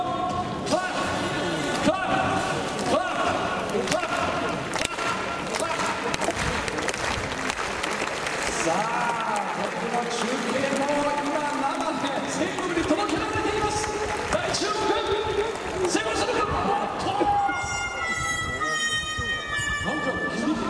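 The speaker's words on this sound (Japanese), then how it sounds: "ファイタースファンの皆さんも手拍子に参加してくれたらとても嬉しいです" Baseball stadium crowd clapping along in rhythm during a between-innings game, steady dense handclaps throughout with an announcer and crowd noise underneath, a brief tooting tone near the end.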